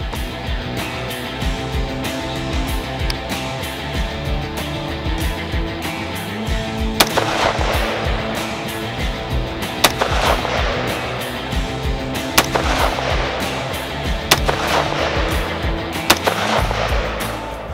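Shots fired from an AR-15 rifle with open sights, sharp loud gunshot cracks spaced a few seconds apart over a steady outdoor rumble, five or six reports in all with no talking.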